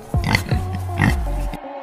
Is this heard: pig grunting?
yes